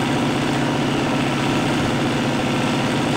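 The tractor engine in the Spintires simulator idles steadily, a loud, low, continuous rumble with a slight vibrating texture and no talking.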